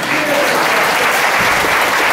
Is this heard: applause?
yes